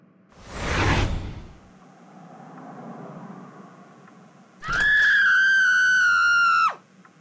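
A whoosh rushes past, then a low hum lingers. A loud, sustained high-pitched scream follows, holding steady for about two seconds before cutting off abruptly.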